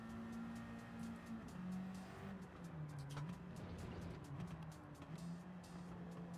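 A Subaru BRZ in a racing video game holds a droning engine note that slides up and down with the gear changes, under a wash of road and tyre noise, steady and fairly distant-sounding, with no speech.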